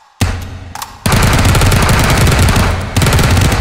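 Very loud automatic gunfire in the H3VR virtual reality shooter, a short opening shot followed by a sustained rapid burst of rounds, a brief pause, then another burst, close and harsh with no talk.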